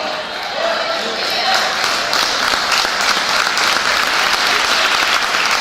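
Congregation applauding during a Portuguese church sermon, a loud, continuous mass of clapping that holds steady, with some voices faintly mixed into the crowd.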